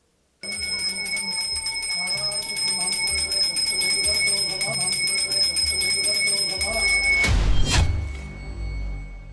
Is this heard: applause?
no